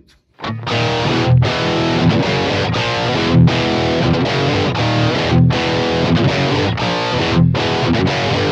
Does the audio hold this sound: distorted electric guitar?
yes